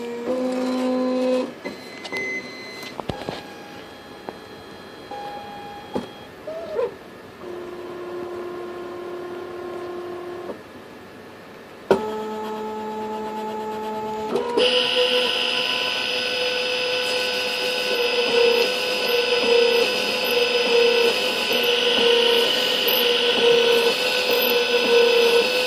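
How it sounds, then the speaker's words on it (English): A Santinelli / Nidek LEX lens drill runs through its cycle: a series of short mechanical whirs and beeps as the lens is chucked, then a sustained high whine as the drill motor spins up and keeps running. "close the door and push start, and it's going to chuck it, and the drill is going to come out"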